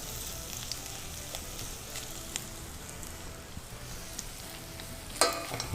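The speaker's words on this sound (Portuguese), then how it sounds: "O pinhão. Nós vamos dar uma leve refogada nele, não precisa ser muito, porque ele já está cozido." Cooked pinhão (araucaria pine nuts) sauté lightly in a pan for a paçoca, giving a steady soft sizzle with faint stirring ticks and a sharper scrape just before the end.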